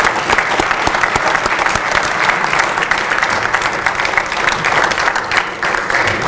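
Loud, close crowd applause at a high school signing ceremony honoring student athletes and coaches, a dense, unbroken clatter of many hands clapping throughout.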